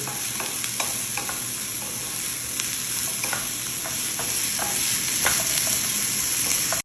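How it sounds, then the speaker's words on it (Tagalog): Sliced onion sautéing in a little oil in a pot, with a steady loud sizzle and scattered clicks and scrapes of stirring, heard close with no talk. "At ngayon i-add ko na itong hiniwa kong onion."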